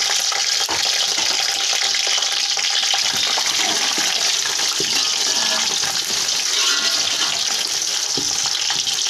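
Potatoes going into browned frying onions for Hyderabadi biryani, a loud, constant hissing fry with watery crackle and a few knocks, close up, no talking.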